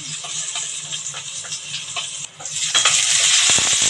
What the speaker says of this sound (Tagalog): maglagay na tayo ng mantika. Then, gusto na natin yung garlic.